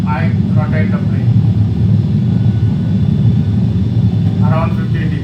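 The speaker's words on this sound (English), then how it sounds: "now I rotate the plane" Airplane engines roar at a steady, heavy pitch as the plane rotates on takeoff from Bradley toward Boston Logan, with a voice talking briefly at the start and end.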